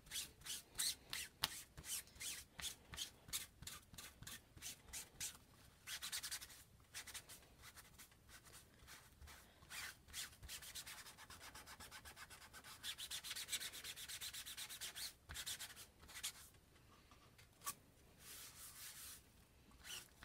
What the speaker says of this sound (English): That is a lot of sanding stuff right there.